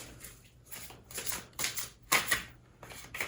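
Tarot cards are shuffled and drawn in quick, close bursts of riffling and slapping, with brief pauses between them and a sharp snap toward the end.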